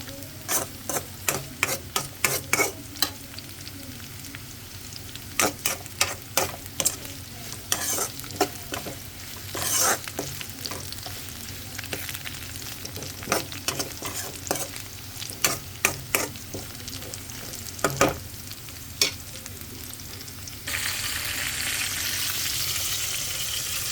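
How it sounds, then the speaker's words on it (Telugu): Ridge gourd peel cooking in a pan, with a steady sizzle under repeated stirring scrapes and clicks of a utensil, then a louder, brighter hiss near the end. "బీరకాయ పొట్టు అయితే ఇంకా కొంచెం మగ్గాలండి"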